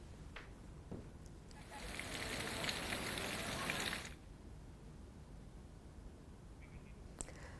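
Heavy rain pours in the hilly Sundha Mata area of Jalore, Rajasthan, a dense hiss that swells for a couple of seconds and then eases back to a faint patter.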